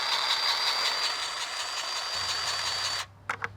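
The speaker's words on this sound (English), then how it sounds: "you can see how much easier this is with an electric grease gun" Battery-operated electric grease gun pumping grease into a boat trailer wheel hub, a loud close whirring motor drone with a steady high whine that cuts off abruptly near the end, followed by a few faint clicks.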